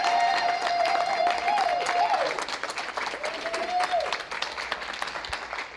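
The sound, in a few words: audience applause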